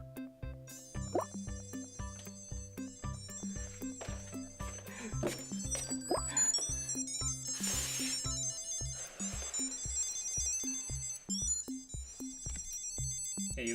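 Tile Mate tracker ringtone playing a repeating melodic chime pattern close by, bright tonal notes in steady rhythm, with no talking over it.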